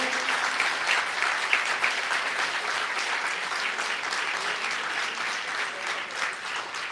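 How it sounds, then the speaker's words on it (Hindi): A gathered audience at a religious festival sermon breaks into loud, sustained applause, thick overlapping clapping that stays strong and even for several seconds without talk. "आप सब लोग यदि जोरदार तालियां बजा के अनुमोदना करें"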